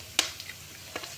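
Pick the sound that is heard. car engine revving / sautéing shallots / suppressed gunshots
sautéing shallots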